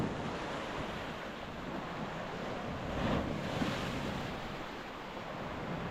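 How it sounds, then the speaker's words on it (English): Mediterranean waves crashing on a beach at Ayia Napa, heard as a steady broadband wash of surf with a slight swell midway, mixed with wind noise and no voices. "Look at the waves crashing in here."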